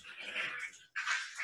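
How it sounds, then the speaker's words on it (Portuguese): Two dogs play-fight close by, giving soft whimpers, whines and little yips in two short bursts with a brief gap between, fairly faint and with no talking. "Eu estou sendo incomodado pelos meus dois cachorros que estão brincando de luta aqui do meu lado"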